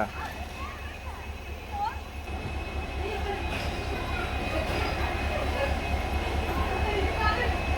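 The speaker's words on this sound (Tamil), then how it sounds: "ட்ரெயினும் பார்த்தீங்கன்னா கரெக்டாக ஷார்ப்பாக 6:05க்கு கிளம்பிட்டாங்க" A diesel passenger train pulls out of a station, its low engine rumble and rolling rail noise building steadily louder over several seconds, with a faint squeal and scattered background sounds.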